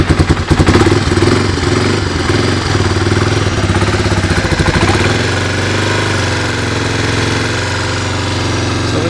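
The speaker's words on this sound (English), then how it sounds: "So I figured I'd get this thing out and give it a cold start" A 1985 Honda ATC 250SX three-wheeler starts from cold with a burst of rapid clattering firing, then settles into a steady, loud two-stroke idle that carries on alone without any talk.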